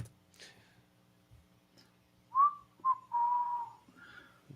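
Someone whistles indoors in a few short melodic bursts, a rising note, a brief chirp, then a longer held tone, fairly close and clear over a quiet room hum.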